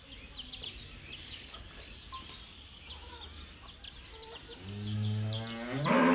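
Foreign-breed cattle on a family dairy farm in Ghoraghat, Bangladesh let out a long, loud, close moo after scattered quieter calls, while chickens cluck in the background.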